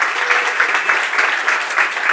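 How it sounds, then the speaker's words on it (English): Sustained audience applause fills a debate hall for a climate debate, dense steady clapping from a sizeable crowd throughout, loud and close with no pauses. "Let's just do one more big round of applause."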